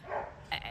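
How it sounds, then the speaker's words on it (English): A dog barks in the background on a property where a goat and dog play, one or two short, muffled yips that come and go within a brief moment. "you can hear her barking in the background"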